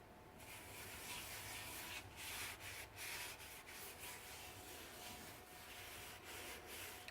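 Crisco being rubbed into a cast iron pan, a faint, steady scrubbing and wiping sound that carries on without pause and has no talking over it.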